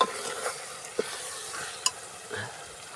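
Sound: ginger sautéing in a pan

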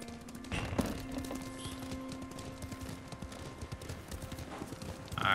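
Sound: horse hooves galloping in video game Ghost of Tsushima

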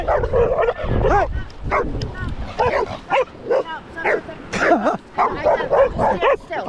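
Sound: dog barking and whimpering on a beach

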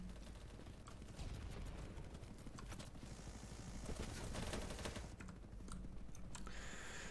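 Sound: gunfire in video game BattleBit Remastered

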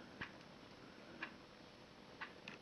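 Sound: handmade wooden wall clock ticking

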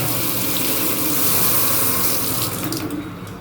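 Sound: water running from a repaired faucet

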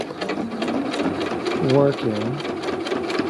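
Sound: sewing machine stitching thick vinyl with ball fringe trim

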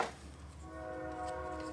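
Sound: train passing by near the house

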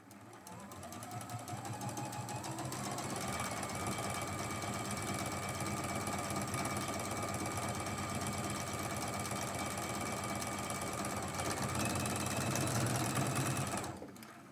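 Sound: sewing machine sewing quilt pieces together

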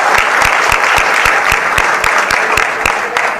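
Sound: audience applause for the organisation's unity

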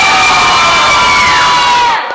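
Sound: children's audience cheering and shouting

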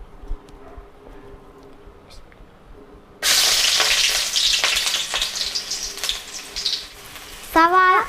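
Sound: sliced onions frying in hot mustard oil

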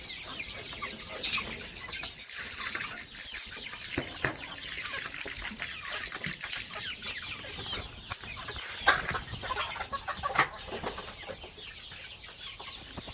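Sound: chickens clucking

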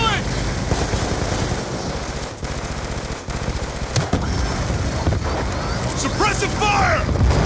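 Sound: machine gun fire in the video game Call of Duty Black Ops 2

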